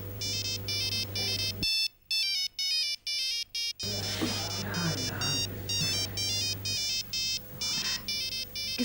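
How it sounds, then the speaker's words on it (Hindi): A phone ringtone plays a repeating bright melodic pattern, loud and close, cutting out briefly and resuming, set against a steady low background hum in an indoor drama scene. "किसका फोन है?"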